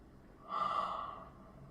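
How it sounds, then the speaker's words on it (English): Another big, drawn-out yawn from a person during a relaxation stretch, with the head turned to the side, rising smoothly and fading slowly, close and moderately quiet. "And then to the other side, do another big yawn."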